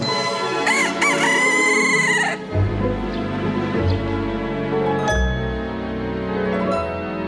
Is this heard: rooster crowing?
yes